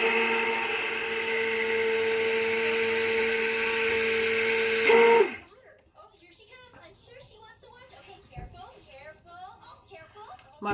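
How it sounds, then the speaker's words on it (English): A worn stick blender whirs steadily through milk soap batter with fragrance oil for about five seconds, then cuts off abruptly, leaving quiet clinks and faint movement. "My poor old stick blender"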